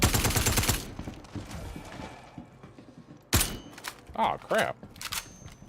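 A rapid burst of gunfire in the space game Star Citizen opens loudly, followed by scattered sharp single shots and mechanical clanks, with someone speaking briefly.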